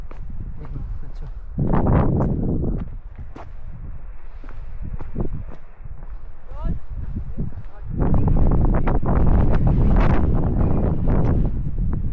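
Wind blows across a hilltop paragliding site in Cyprus, buffeting the microphone in steady low rumbling gusts that grow stronger toward the end, with a person talking over it.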